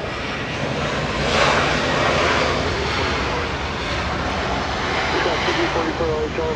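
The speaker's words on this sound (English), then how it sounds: "Martha taking off, flying to Guadalajara." An Airbus A320 taking off from LAX bound for Guadalajara gives a loud, rumbling engine roar that builds and holds, with a voice talking faintly over it.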